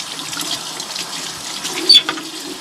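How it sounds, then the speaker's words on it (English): Warm tap water runs steadily over a model car body in a sink, a soft continuous splashing rinse with a brief louder spatter near the end. "rinsing it off with warm water"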